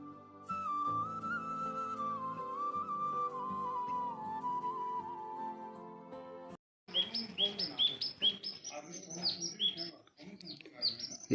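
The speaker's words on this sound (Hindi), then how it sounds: "ये देखो भाई, आजकल नई चिड़िया पहुंच गई यहाँ।" A small bird chirps in quick, bright bursts near a home, following a long sustained tonal chant or drone that fades before the tweets begin.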